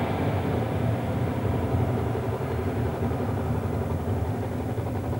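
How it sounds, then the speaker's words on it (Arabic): Jaguar and Hunter military jets of the Sultan of Oman's Air Force fly over a national day military parade, a loud, steady broadband roar that holds throughout with no talking. "تمر في الأجواء طائرة جاكوار وهنتر"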